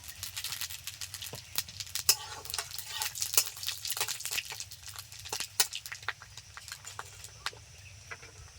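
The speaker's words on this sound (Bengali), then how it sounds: "এখন দিয়ে দিচ্ছি জিরে তেজপাতা আর শুকনো লঙ্কা" Cumin seeds, bay leaves and dried red chillies crackle and sizzle in hot oil, a steady dense frying hiss with scattered sharp pops throughout, close and moderately loud, no talking.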